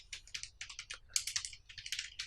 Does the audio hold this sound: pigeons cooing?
no